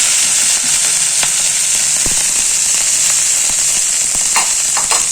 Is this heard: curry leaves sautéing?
yes